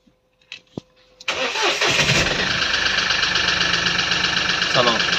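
A Mahindra Bolero BS6 diesel engine turns over after a few clicks and fires into a loud, steady close-up idle, with a person talking nearby.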